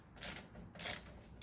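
A ratchet works the chain adjusters on a Suzuki SV650 Gen3 motorcycle, giving two quiet, short clicking strokes in close succession, faint and with no voices.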